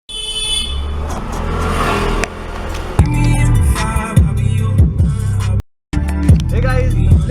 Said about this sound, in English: Let's remove our car outside.